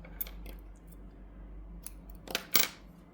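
Scissors snipping crochet yarn after a finished granny square round, a few quick, close, crisp cuts clustered near the end, faint and alone in a quiet room.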